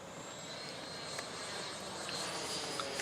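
A composite BAE Hawk electric ducted fan model jet from HobbyKing flying on its maiden flight, a faint, steady fan whine and airy rush at a distance, with no talk.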